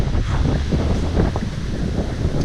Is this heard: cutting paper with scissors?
no